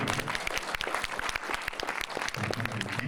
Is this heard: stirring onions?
no